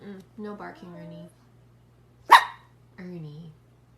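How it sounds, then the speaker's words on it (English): A dog gives a single sharp bark close by, set among whining, yelping vocal sounds before and after it in an otherwise quiet room. "No barking, Ernie."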